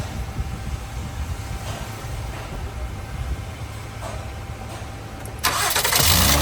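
A Honda car with a severe voltage drop and a no-crank fault: steady low engine rumble runs throughout, then a sudden louder burst near the end as the engine fires and starts, close and alone without talk.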